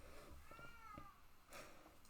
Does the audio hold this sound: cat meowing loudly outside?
yes